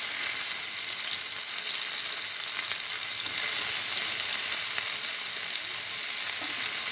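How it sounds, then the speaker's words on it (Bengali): Onions fry in hot oil for a quick koi fish fry, producing a loud, even, continuous sizzle up close, with occasional faint stirring and no speech. "পেঁয়াজ দিয়ে খুব তাড়াতাড়ি ভাজি করে নেব"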